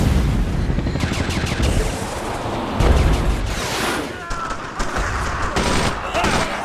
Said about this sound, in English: The weapon effects are more realistic than fantastic